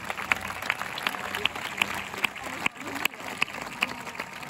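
Audience at a medieval festival clapping warmly after a demonstration, a steady patter of applause with regular sharper claps standing out, moderately close, with some voices mixed in.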